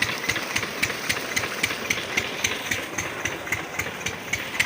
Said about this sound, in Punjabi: ਆਪਾਂ ਇੰਜਨ ਤੇ ਬੋਰ ਚਲਾਤਾ ਸੀ